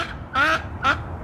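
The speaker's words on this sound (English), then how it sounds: "that's a duck" A duck quacking at a park, two loud, close, nasal quacks separated by a short pause, with only faint background noise around them.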